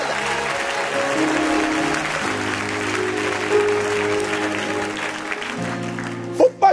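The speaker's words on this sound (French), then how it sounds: "on acclame la présence de Dieu" A church congregation applauds in a steady, dense wash of clapping from many hands in a reverberant hall, mixed with sustained tones and a few louder knocks near the end.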